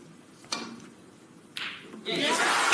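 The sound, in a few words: audience applause at snooker match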